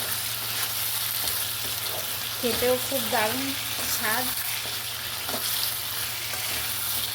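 Fried pointed gourd goes into hot oily spice paste in a village kitchen, giving a steady sizzle and frying hiss throughout with a few stirring scrapes and a brief voice speaking over it.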